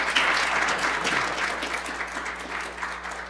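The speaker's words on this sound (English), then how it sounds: "a round of applause." An audience applauds panelists at the end of a talk on teaching opportunities abroad, a steady close wash of clapping that holds for a few seconds.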